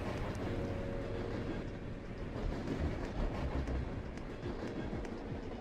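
Trains rumble past in a video game, a steady rolling drone with rhythmic clatter that stays loud throughout, with a voice faintly beneath.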